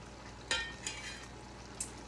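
Masaman curry is stirred in a pan with a few soft scrapes and light clinks of a utensil against metal, quiet and close, with a faint background sizzle.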